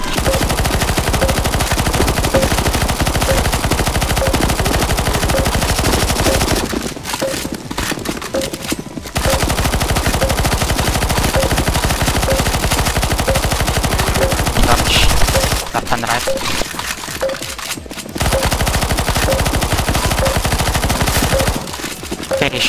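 Sustained automatic gunfire fills a boss fight in the CS:GO Zombies map Deadcore, loud and continuous with two short lulls where the shooting briefly thins out.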